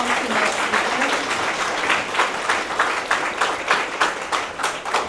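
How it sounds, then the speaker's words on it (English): Audience applause for two keynote speakers at an education research conference, a dense steady wash of many hands clapping close by throughout, with a faint voice briefly underneath. "So please give a big applause for our two awesome keynote speakers"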